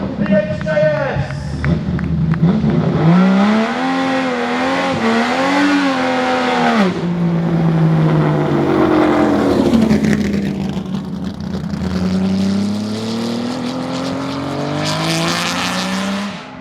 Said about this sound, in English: Let's make loads of noise for this very noisy car